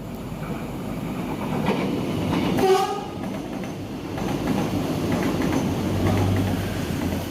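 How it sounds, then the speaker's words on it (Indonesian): The Gajah Wong passenger train rolls past nearby arriving at Wates station, Yogyakarta, with a steady low rumble and rhythmic wheel clatter, and a brief horn blast sounds partway through. "kereta api Gajah Wong tiba di stasiun Wates"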